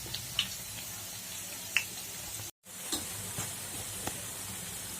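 Alasanda vada, black-eyed pea fritters, deep-fry in hot oil with a continuous close sizzle and occasional sharp pops and ticks, broken by one brief dropout before the bubbling resumes.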